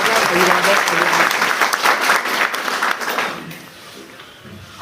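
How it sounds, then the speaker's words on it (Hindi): An audience at a rally welcoming cycle travellers on a Kashmir-to-Kanyakumari yatra breaks into loud, dense applause that holds for about three seconds and then thins out into scattered claps. "हम उनका जोरदार तालियां बजा के उनका स्वागत अभिवादन।"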